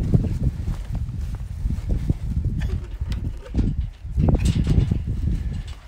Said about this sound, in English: Look, see, here come the horses.